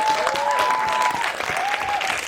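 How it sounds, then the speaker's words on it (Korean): An audience applauds at a live film talk event in Korea, a dense burst of clapping from a crowd lasting a couple of seconds, with faint voices mixed in. "박수 좀 주세요."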